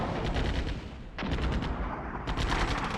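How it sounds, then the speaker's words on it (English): Rolling artillery fire in the war game Armored Brigade 2, dense rumbling bursts of distant shelling that pause briefly and then resume, loud and continuous, no voices. "Once this artillery ends,"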